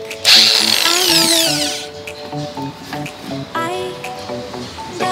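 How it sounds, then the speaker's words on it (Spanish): A screw is worked out of an angle grinder that cuts out when tilted, giving squeaky metallic twists and scrapes in short, uneven bursts, fairly close and loud. "entonces vamos a quitar el tornillo"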